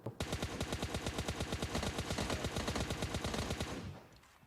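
Automatic gunfire rattles in PUBG Mobile Lite, a long fast burst of evenly spaced loud shots lasting several seconds before cutting off.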